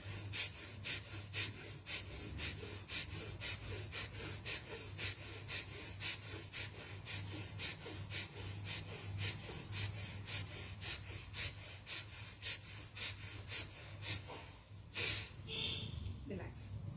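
Rapid, forceful rhythmic yoga breathing, dozens of sharp exhalations in a steady fast pulse, continuing for many seconds before easing off near the end.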